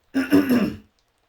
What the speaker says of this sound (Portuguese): então me desculpem os pigarros